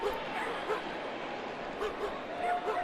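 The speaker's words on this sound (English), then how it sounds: "Can really hear those dogs barking throughout the park tonight, EK." Dogs bark and yip in short scattered bursts throughout a baseball park during a game, fairly distant and mixed with crowd noise and the murmur of the stadium.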